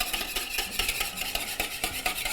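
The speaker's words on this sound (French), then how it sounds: "Donc je mélange vraiment bien les ingrédients humides." A utensil stirs wet ingredients in a bowl for a chocolate dessert, making rapid rhythmic scraping and clinking strokes, close and fairly loud, with no talking.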